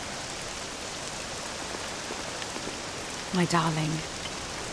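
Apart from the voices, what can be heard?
rain falling, from video game Dragon Quest VII Reimagined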